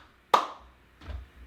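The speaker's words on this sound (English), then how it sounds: "step across midline, and clap your hands in front of you twice" Two sharp hand claps land in front of the body, the first bright and loud, the second softer about two-thirds of a second later, during a balance and stepping exercise class for people with Parkinson's.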